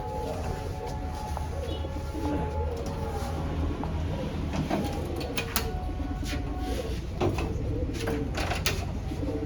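Racing pigeons cooing in a loft, repeated soft throaty coos over a constant background din.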